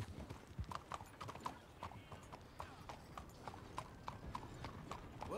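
A horse's hooves clip-clop in the video game Red Dead Redemption 2, a steady quick rhythm of sharp, fairly faint hoofbeats continuing throughout at close range.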